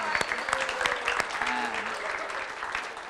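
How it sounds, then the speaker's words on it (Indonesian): Audience applause at a school event, steady dense clapping from a crowd at moderate distance, continuous throughout. "Ayo tepuk tangan untuk Pratnya Paramita."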